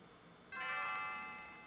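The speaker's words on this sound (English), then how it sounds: "I can hear the bells chiming," A chiming bell from the SNES game Chrono Trigger rings out after a short quiet lead-in, its bright, ringing tone lingering and slowly fading.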